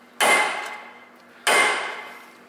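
Two sharp metallic hammer taps about a second apart on a suspension part of a 20-year-old AMG car, each ringing out and fading slowly, close and loud with no talking.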